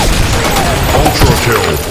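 A military shooter video game on a sandstorm map is full of grenade blasts and a rapid barrage of gunfire, loud and dense throughout. Game voice callouts sound over the shooting.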